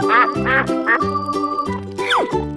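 A cartoon duck gives several loud, close quacks in a choppy sequence, ending with a bright sliding squeal, with no voices over it.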